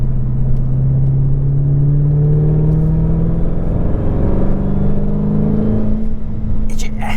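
A 707hp Dodge Challenger Hellcat engine accelerates with a loud, steady low rumble that rises in pitch and drones on without a break, heard from inside the car.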